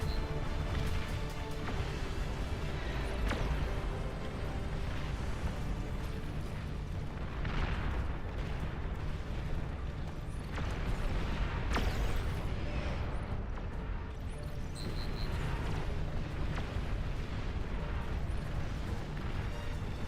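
Mortar fire in the real-time strategy game Beyond All Reason, a dense continuous barrage of booms and rumbling blasts layered over one another at steady loudness across the whole stretch, with no voices.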